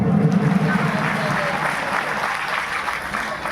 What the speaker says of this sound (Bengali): জোরে একবার প্রভুর জন্য করে তালি দিই।